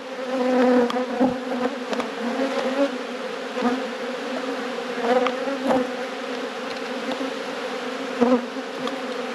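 Bees swarm over an open red hive during a robbing event, a dense continuous buzzing drone near the microphone with individual insects zipping past, no voices.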